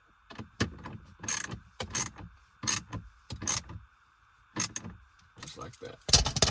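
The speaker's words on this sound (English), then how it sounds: "let me snug it up real quick with the socket" Socket ratchet snugging the bolt on a Course Motorsports car phone mount, a series of short sharp clicking bursts in quick groups with brief pauses between them, close and fairly loud, with no talking.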